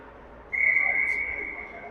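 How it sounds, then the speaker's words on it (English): A referee's whistle at an ice hockey championship game blows in one long, loud, steady blast that starts half a second in, over low arena background noise. "And we have a whistle."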